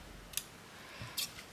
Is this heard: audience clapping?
no